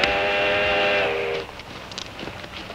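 A train whistle blows a steady, multi-toned blast for over a second, then cuts off, leaving faint rumbling and scattered clanks of a passing train.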